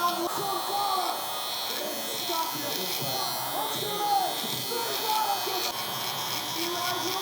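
Stylecraft Rebel electric hair trimmer running fresh out of the box with blades unadjusted, a steady close buzz lasting throughout, with someone talking over it.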